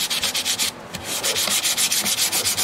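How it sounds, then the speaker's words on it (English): Fingertips rubbing finish into the wood around the sound hole of a 12-string custom dreadnought guitar, a steady run of close, quick scuffing strokes with a brief pause partway through. "around this sound hole where the finish is accepting at different rates in the different woods, I can blend that with my fingers"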